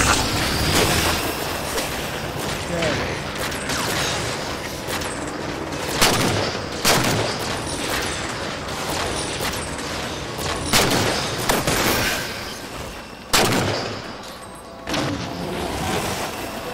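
Loud, heavy weapon fire in Halo 4, including railgun shots, breaking through a constant rumbling din as repeated sharp bursts spread irregularly across the stretch, with no talking.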